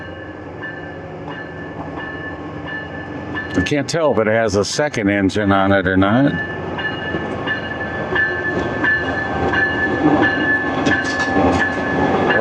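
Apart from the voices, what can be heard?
Amtrak train arriving at Williston station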